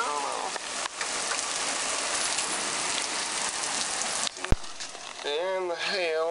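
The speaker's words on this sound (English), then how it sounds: "There's a bit more hail now." Hail and rain fall during a storm in Bristol, Tennessee, a dense, steady patter that fills most of the clip, then cuts off before a person speaks briefly at the end.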